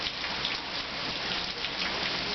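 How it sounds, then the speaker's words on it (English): Rain and hail pour down steadily during a severe thunderstorm, a dense continuous hiss of small hailstones and raindrops hitting the ground with no voices. "we do have to report some hail right now"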